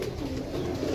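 A pigeon coos in a short, soft, low burst, close by and alone, on a rainy-weather day.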